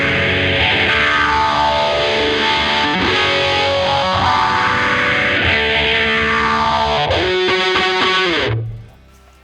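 Electric guitar through an overdrive distortion pedal set toward the overdrive side. It plays a loud, dense, sustained riff alone that ends in a ringing chord and a quick fade.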